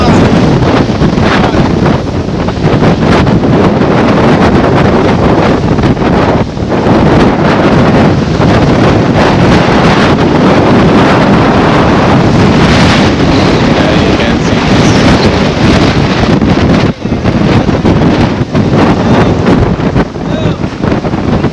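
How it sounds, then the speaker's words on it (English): Loud, relentless hurricane wind, gusting to 165 mph in Jamaica during Hurricane Melissa, roars and buffets against the microphone without letup, a continuous heavy rush with gusty surges. "It's extremely windy out here."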